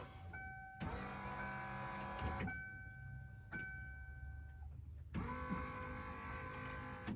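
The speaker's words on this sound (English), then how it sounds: "I'll go up here and hit the window switch." Rear power window motor on a 1978-1996 full-size Ford Bronco runs in three bursts, two long and one very short, each a steady electric whine with gear hum. The motor is close and fairly quiet, with no talk.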